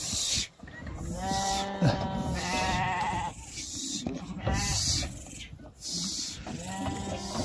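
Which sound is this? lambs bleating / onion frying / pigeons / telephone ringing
lambs bleating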